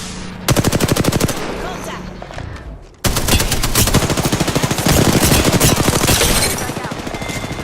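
Video game gunfire striking the player, loud rapid automatic bursts in fast rattling volleys, a short break and then a longer sustained stream of shots, close and dominant.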